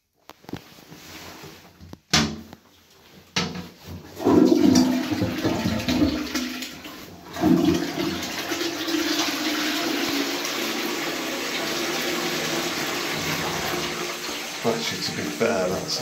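A toilet flushes nearby with a sudden loud rush of water, then settles into a long steady hiss of the cistern refilling, with voices talking faintly over it.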